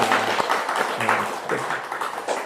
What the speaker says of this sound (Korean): 우리 하나님께 한번 박수 한번 드려야 될 것 같으죠?